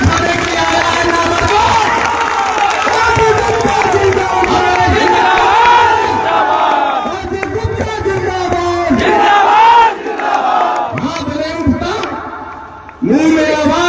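A large crowd at a Paan community mega-rally in Bhagalpur shouts and chants loudly and continuously, voices overlapping in a dense roar with brief dips and a sudden renewed burst of shouting.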